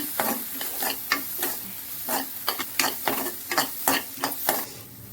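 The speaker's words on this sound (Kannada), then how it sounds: "ಇದು ಚೆನ್ನಾಗಿ ಹಸಿ ಸ್ಮೆಲ್ ಹೋಗೋ ತನಕ ಫ್ರೈ ಬಾಡಿಸ್ಬೇಕು." Green chillies and onion fry in a pan for potato sagu, with a steady sizzle broken by regular scraping strokes of a spoon stirring, close and fairly loud with no talk.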